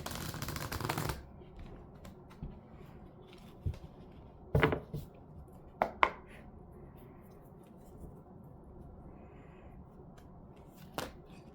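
A quick riffle of tarot cards being shuffled opens the scene, followed by scattered soft taps and clicks as the cards are handled in a quiet room.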